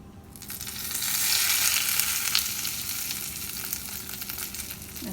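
Hot oil tempering with fenugreek and curry leaves poured over a cucumber and mango buttermilk curry, giving a loud, steady sizzle that flares up after a quiet start and holds for several seconds, with no talking.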